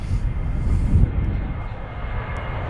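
A Ryanair airliner rolls for takeoff at Manchester Airport on an intersection departure, its engines giving a loud, close roar that peaks early and then eases slightly as it moves off.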